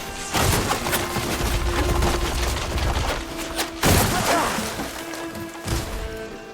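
Dense, continuous volley of weapon fire and impacts in a Horizon Forbidden West Burning Shores battle, loud and close, with sharp crashes and thuds layered over a steady game soundscape.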